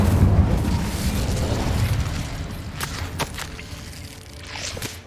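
An Incendio fire spell is cast in the Hogwarts Legacy video game: a rumbling burst with booming low end, then several sharp crackling snaps and a fading rush of flame, with what sound like footsteps in the mix.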